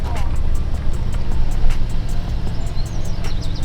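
Car engine at a busy Father's Day car meet in a car park, a loud continuous rumbling drone with crowd noise around it, close to the microphone.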